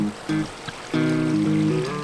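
Water flows through a snowy winter farm creek partly blocked by beaver dams, a steady trickling stream heard up close with no one talking.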